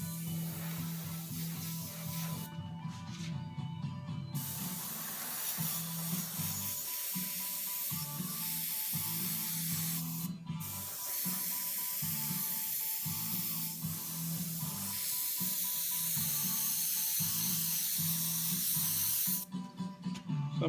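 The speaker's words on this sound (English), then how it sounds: "So I'm just spraying all out around this to kind of get that little yellow haze out around it." An airbrush hisses as it sprays yellow paint onto a Harley fender, with steady, mid-level spray bursts separated by brief pauses, over the constant drone of a nearby compressor.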